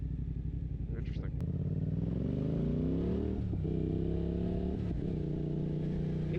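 A Suzuki GSX-8R motorcycle with an aftermarket exhaust drones steadily and then swells through rising revs, close by, with someone talking over it.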